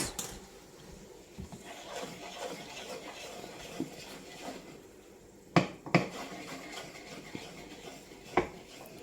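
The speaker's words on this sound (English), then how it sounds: "And mix that around so it melts." Spoon stirring ingredients in a pan while cooking keto spaghetti bolognese, faint scraping and soft clinks with a few sharper metallic knocks, quiet and intermittent.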